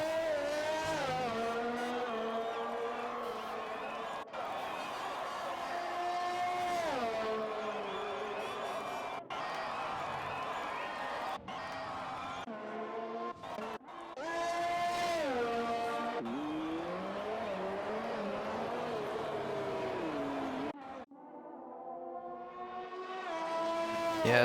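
Race cars in an Xbox One racing game at the Canada Grand Prix howl past one after another, engines rising and falling through gear shifts in a steady loud stream, with a brief lull near the end.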